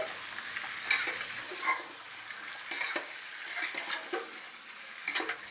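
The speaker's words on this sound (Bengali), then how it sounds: "মাটনের পিসগুলো তেলে অ্যাড করার পরে কিছুক্ষণ নাড়াচাড়া করে এর মধ্যে কিছু গুঁড়ো মশলা অ্যাড করতে হবে" Mutton pieces frying in oil in a large pot of biryani cooked for fifty people are stirred with a spoon, giving a soft sizzle under irregular scraping and clattering strokes close by.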